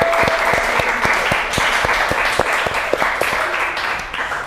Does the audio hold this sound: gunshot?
no